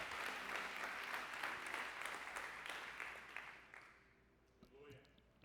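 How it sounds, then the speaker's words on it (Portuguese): A church congregation applauds during a sermon, sustained crowd clapping that gradually fades toward the end, with a voice speaking faintly over its tail. "pode aplaudir o nome dele. Aplauda melhor."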